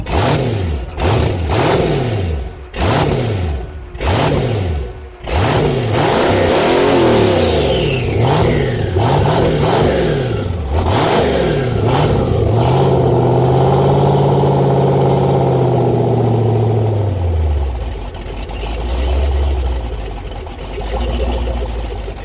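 A twin turbo LS-swapped Toyota Starlet engine, running and revved hard in repeated rising and falling blasts, then a long climbing rev that winds down to a rough idle, loud and close.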